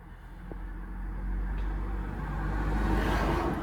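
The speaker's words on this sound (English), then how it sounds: "sorry about the traffic noise." Steady road traffic passing outside a council flat, a continuous low rumble that gradually swells louder as a vehicle approaches, with no voices.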